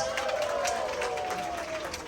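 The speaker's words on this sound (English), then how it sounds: "How about a big round of applause?" A crowd applauds at the opening ceremony of Hume MRT Station in Singapore, with a steady wash of clapping and some crowd noise running throughout.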